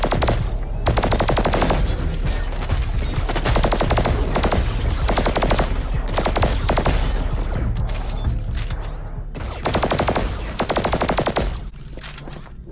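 Sustained rapid gunfire in the VR shooter Hubris on PlayStation VR2, loud and close, with a few brief pauses between long automatic bursts and mechanical clanks.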